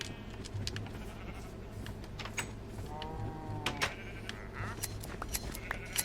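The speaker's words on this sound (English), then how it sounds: "just for the heck of it, I'll shear y'all sheep" Sheep in the Minecraft video game bleat in short, scattered calls while being sheared, repeating at intervals over a steady low game background.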